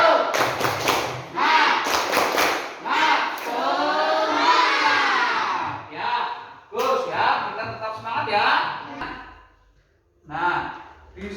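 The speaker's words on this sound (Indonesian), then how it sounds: "untuk menambah semangat kita lakukan tepuk semangat ya" A school class claps in a quick rhythmic pattern, sharp claps bursting over loud chanting and shouting voices, with pauses between rounds.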